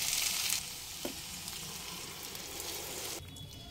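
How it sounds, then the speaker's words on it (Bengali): Warm water hits a sizzling giant taro and potato curry in the pan. A bright frying hiss fades into a softer, steady bubbling sizzle with one brief knock, and the sound drops off near the end. "হালকা গরম জল দিয়ে দেব।"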